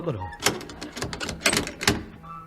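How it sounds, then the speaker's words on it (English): A door bolt is slid and clunked shut as a radio comedy sound effect, heard as a series of sharp knocking clacks spaced about half a second apart, close and fairly loud. "Bolt the door."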